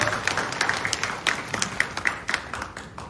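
Audience applause at an apartment reconstruction vision briefing as a district mayor is welcomed, a crowd clapping steadily with distinct individual claps standing out, fairly close and alone without speech.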